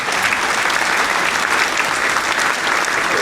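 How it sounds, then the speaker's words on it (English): Steady, dense applause from a studio audience greeting Jeremy Harris, an entrepreneur and family man, on a talk show; loud and continuous throughout with no pauses. "I would like the audience to put a round of applause together for Jeremy Harris"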